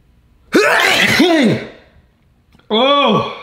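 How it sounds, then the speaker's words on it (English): A person sneezes twice in close succession, loud and near, with a noisy burst and a short pause before the second, sharper sneeze, during a fast-food big box eating challenge. "Sneezing."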